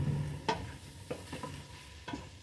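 Vegetables stir-frying in oil for a potato and broccoli soup, a low background sizzle broken by several distinct scrapes and clacks of a spoon stirring the pan, heard up close without speech.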